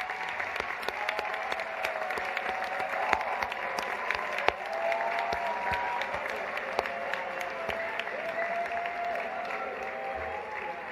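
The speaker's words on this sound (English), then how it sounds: "here's what the crowd sounded like after her little talk" Sustained applause and cheering from a large crowd following a political speech, steady and distant-sounding, with a few voices calling out over the clapping.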